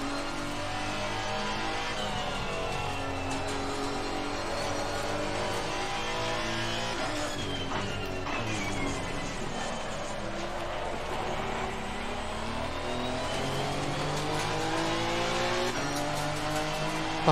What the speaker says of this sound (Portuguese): Carro bem tranquilo de pilotar, eu gosto dos carros da física do Assetto Corsa Convenzione.